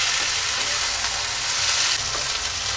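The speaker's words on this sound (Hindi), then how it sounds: "तो इसे हम अच्छी तरह से भून लेंगे।" Bakla (broad bean) vegetable frying in a pan with a steady, loud sizzle and crackle throughout, no talking.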